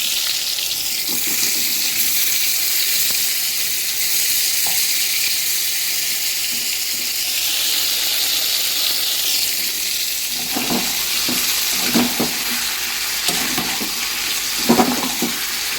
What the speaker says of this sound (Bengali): বেগুন ভাজি বসিয়ে দিলাম। আর এদিকে মাংস কষানো হয়ে এসেছে।